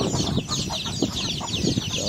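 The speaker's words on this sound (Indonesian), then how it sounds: "Saya punya ayam." Chickens cluck and chatter nearby in a busy flock, overlapping calls coming thick and continuous over a short stretch.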